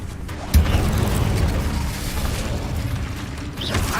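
The Incendio fire spell is cast in the Hogwarts Legacy video game, opening with a sharp burst that becomes a sustained, roaring rush of flame. It carries on steadily for several seconds, and a second whooshing flare comes near the end.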